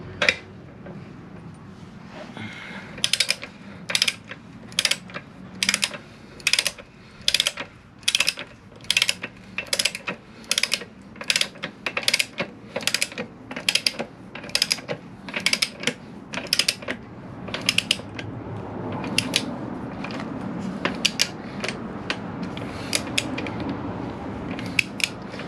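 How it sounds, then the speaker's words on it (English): A torque wrench set to 98 newton meters tightening the rear axle of a Honda NC700X motorcycle, with a long run of sharp, regular ratcheting clicks close by, then quieter shuffling at the end. "Once you hear the click, it's done."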